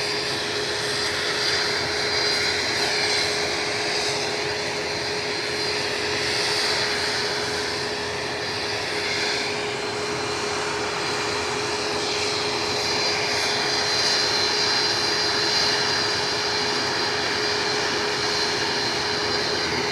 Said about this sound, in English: Sure there's a plane about to appear.